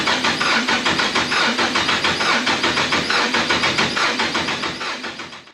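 A Ford Barra engine fitted in a Toyota FJ45 cranks and starts for the first time, a rapid rhythmic churning of the starter and engine that runs steadily before fading at the end, close to the microphone.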